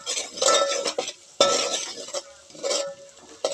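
Turmeric being stirred into a curry with frying onions in a pan: irregular scraping and clinking strokes of a utensil against metal, close and fairly loud, in several bursts with short pauses, no talking.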